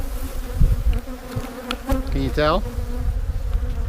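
Defensive honeybees swarm around an opened hive, a dense steady buzz close to the microphone, with a short spoken question and a brief tonal squeak partway through.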